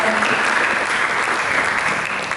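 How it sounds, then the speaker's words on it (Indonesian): A church congregation applauds for Jesus Christ during a Sunday service, a continuous, even roar of many hands clapping close by. "Berikan tepuk tangan bagi Yesus Kristus."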